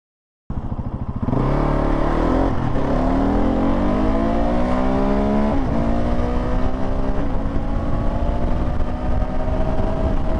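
A modified KTM 690 Enduro single-cylinder motorcycle starts up and accelerates hard through the gears, its loud, close engine note climbing in pitch with brief dips at each shift, alone with no talk.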